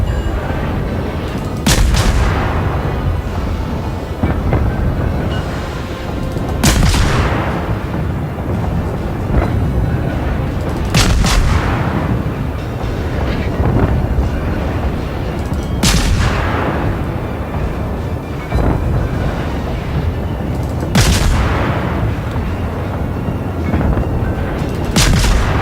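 Naval guns firing high explosive shells in the World of Warships game: repeated heavy booms roughly every five seconds, each a sharp blast trailing into rolling rumble over constant loud engine and wind noise.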